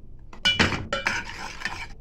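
A spoon scrapes and clinks against a pan while stirring a brigadeiro mixture made with condensed milk and Toddy, giving a few close, sharp metallic strokes.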